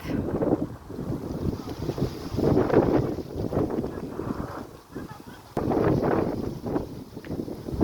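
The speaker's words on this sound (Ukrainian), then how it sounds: "Дуже міцний вітер повертає нашу групу назад." Strong gusting wind on a river rafting trip on the Sura buffets the microphone in loud surges and lulls, with a water-like rush underneath.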